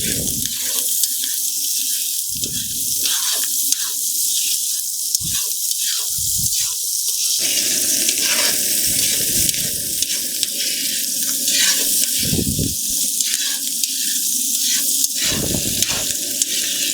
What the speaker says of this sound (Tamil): நெய்யில் அந்த பூண்டை வந்து வதக்கணும்